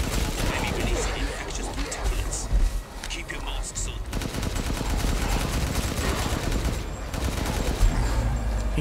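Rapid automatic fire from the Dragoon rifle in Resident Evil Village, played as Chris Redfield, forms a dense, continuous burst of shots with a short break near the middle, loud and close, with someone talking over it.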